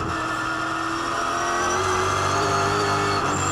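A 2008 V8 Supercar race car engine at Oran Park after spinning on a wet puddle, a steady loud mid-pitched engine tone with car noise throughout and no speech.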